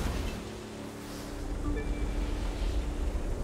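Wind gusts roar through The Crew 2 racing game as a steady, broad rushing noise that swells slightly in strength.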